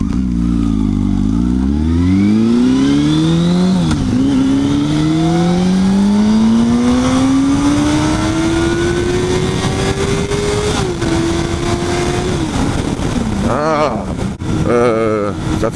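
A Honda Hornet motorcycle engine, heard while riding, climbs through the gears, then holds a loud, steady drone that rises slowly. It eases off near the end, with wind rush and a few wobbling revs, and someone speaks over it.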